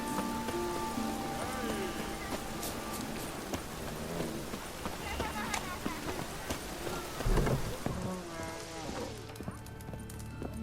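Rain falls steadily in the Witcher 3 game world, mixed with horse hooves clopping and a distant rumble, while characters speak over it.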